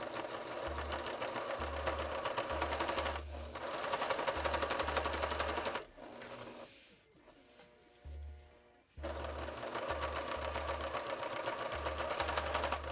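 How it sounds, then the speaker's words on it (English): A sewing machine stitching a quilted goose coat runs in loud, steady rhythmic bursts. It stops for a couple of seconds in the middle, gives a short burst, then resumes its steady chugging. "we're just gonna back up, tie a knot, and keep sewing"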